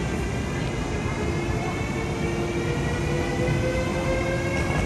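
A high-speed train rumbles steadily at Shanghai Hongqiao station, a loud continuous drone with faint tonal whine layered on top, heard from close by with no talk.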